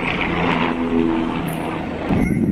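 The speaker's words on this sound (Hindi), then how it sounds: "ऊपर हेलीकॉप्टर भी उड़ रहा है" A helicopter flies overhead above Kedarnath among cold, windy mountains. It gives a steady, muffled drone that is largely buried under loud, continuous wind noise, with no voices.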